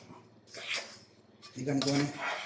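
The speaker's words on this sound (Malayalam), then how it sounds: "റവ ആഡ് ചെയ്തിട്ട് എന്നിട്ട് ഇത് നന്നായി മിക്സാക്കി എടുക്കുക" Semolina is stirred in a bowl, giving scraping clinks of a spoon against the dish in two short spells, fairly quiet and close, with a voice speaking over it.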